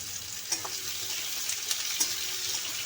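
Six large onions frying in oil in a pan for egg do pyaza, giving a steady soft sizzle with a few brief stirring clicks, fairly faint and without voices.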